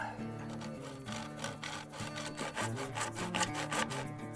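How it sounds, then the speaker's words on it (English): A hand saw cuts through a tube held steady on a knuckle support, making a steady run of rhythmic back-and-forth rasping strokes, close and fairly loud, with no talking. "you're gonna saw just like that"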